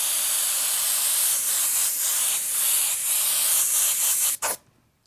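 Airbrush spraying paint onto a T-shirt through a stencil, a continuous close hiss with brief dips as the trigger eases, ending in a short burst before the spray cuts off.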